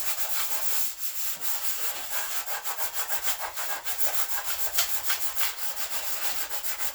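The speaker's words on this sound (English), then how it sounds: "you can hear it in the sandpaper if you listen" Sandpaper rubbed by hand during a 1962 Impala restoration, fast rhythmic back-and-forth scratching strokes, close and steady for several seconds without talk.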